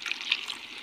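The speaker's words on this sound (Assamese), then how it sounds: "পানী অলপ দি দিম।" Water poured into a cooking pot for fish curry with spinach, tomato and onion, a brief soft splashing trickle, faint and close.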